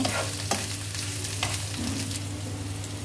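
Onion and green chilli frying in oil for a bitter gourd and small shrimp dish, a continuous close sizzle with a low steady hum underneath and a few soft stirring sounds, no talk.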